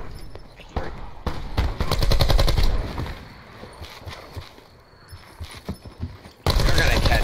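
Semi-automatic gunfire in the video game Black Ops 4 (gun game mode), with bursts of rapid shots amid game effects, loud and close, while players talk over it.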